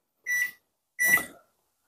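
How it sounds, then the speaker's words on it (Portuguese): Switching on a 1500-watt microwave oven gives two short, clean electronic beeps with a pause between them, close and clear in otherwise silent surroundings. "Micro-ondas ligado"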